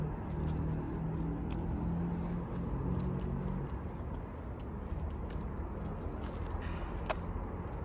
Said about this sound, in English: Of course it's the highway.